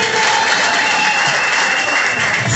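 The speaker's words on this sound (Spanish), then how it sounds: "los aplausos, por favor." Guests at a celebration in Bucaramanga applaud, producing loud, continuous, dense clapping that fills the whole stretch evenly without any talking.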